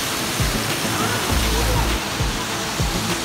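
A big water fountain with a lion and treasure chest at a Disney resort, giving a continuous broad rushing splash heard from a distance, with low rumbles and a voice talking over it.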